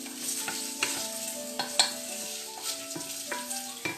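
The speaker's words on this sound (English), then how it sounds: "Okay, we're stir frying our onions." Chopped onions stir frying in a pan for Portuguese caldo verde, with steady sizzling, a spoon scraping and clinking at intervals, and soft tonal hums beneath, close and moderately quiet, no voices.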